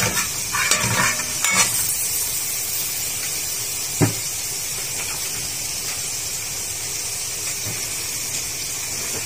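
Garlic sizzles in a cooking pot while a sauce is started, a steady bright hiss of frying throughout, broken by a few sharp clinks of a utensil against the pot.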